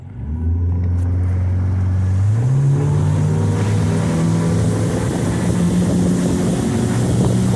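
A 2019 Suntracker 16 ft Bass Buggy boat's outboard motor revs up from idle and pulls away, its loud steady drone rising in pitch as the boat takes off, with wind buffeting the microphone throughout.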